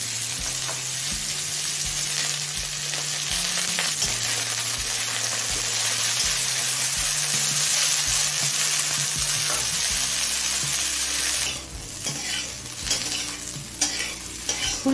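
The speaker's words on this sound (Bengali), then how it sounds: "এখন ফুলকপি আর বিনসটা দিয়ে দেবো।" Cauliflower and beans frying in oil with potato and carrot, a steady loud sizzle under repeated rhythmic stirring scrapes of a spatula against the pan, close, easing slightly near the end.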